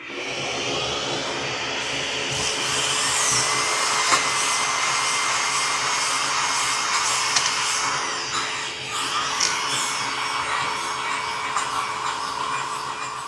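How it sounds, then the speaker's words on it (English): Bevel sanding on a bowling ball, a steady mid-level whirring of a spinning ball against abrasive, continuous and even throughout with small fluctuations and no talking. "Do a little bevel sanding."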